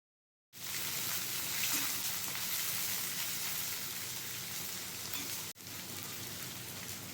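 Chopped onion, garlic and ginger hit hot oil in a pan, giving a loud, steady broadband sizzle that holds throughout, briefly cut by a sharp click near the end before the crackling continues.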